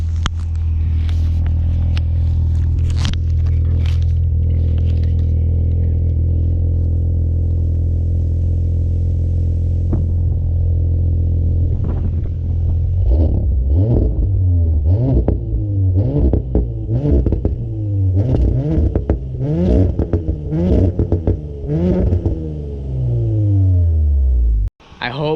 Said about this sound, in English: I'm gonna start revving the car